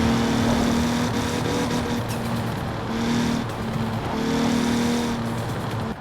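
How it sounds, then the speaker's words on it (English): A Toyota Supra with a 1JZ engine in Forza Horizon 4 drones loudly, its revs rising and falling in repeated pulls with turbo flutter chattering between them, no talk over it. "It's got turbo flutter."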